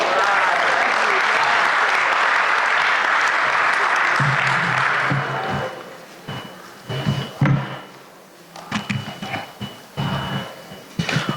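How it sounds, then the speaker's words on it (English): Applause from an audience at a Martin Luther King Jr. commemoration service after a group song, loud and steady at first, then thinning into scattered claps and cheers. "Come on, give him an applause today."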